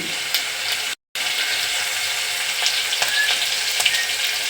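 Garlic, cumin and two green chillies sautéing in a pan over a low gas flame give a steady, close hiss of sizzling oil with faint stirring scrapes, broken once by a brief gap of silence, with no talking.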